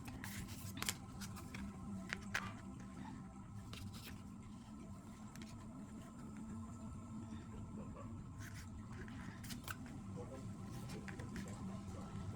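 Tarot cards are handled and arranged with soft shuffling, tapping and scraping at close range, intermittent and quiet, under faint room noise.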